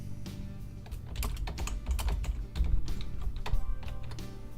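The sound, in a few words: typing text on computer keyboard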